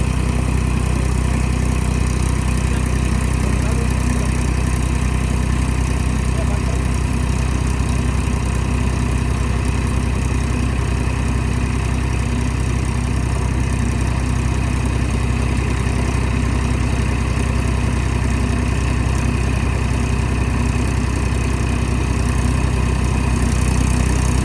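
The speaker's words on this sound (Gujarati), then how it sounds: "હલરનું ટ્રેક્ટર, આ લારી મોટું ટ્રેક્ટર, પછી અહીંયા છે નાનું ટ્રેક્ટર અને હજી એક ટ્રેક્ટર આવે છે." Several tractors, large and small, idle beside a grain thresher working millet and sorghum on a Gujarati farm, producing a loud, steady diesel drone with a constant low hum and no talk over it.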